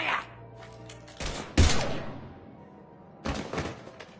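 Gunfire in the game Mass Effect 3, a few heavy shots and thuds coming in separate bursts, loud and close, with no speech over them.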